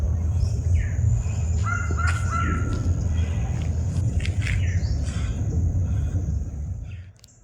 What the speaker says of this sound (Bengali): সকালের শান্ত নিস্তব্ধ পরিবেশে শুনতে পাচ্ছেন এই পাখির ডাক